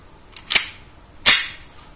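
Two sharp snapping shots from an S&W Sigma40 airsoft pistol firing BBs, about three quarters of a second apart, close and crisp in a quiet room.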